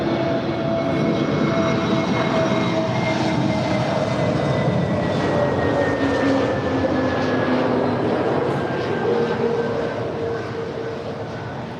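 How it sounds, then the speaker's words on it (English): An American Airlines Airbus A321neo at LAX passes with a loud, sustained jet roar and whining engine tones that slowly shift in pitch, fading slightly toward the end. "This is American Airlines 959 from Dallas, Fort Worth. It is an A321neo."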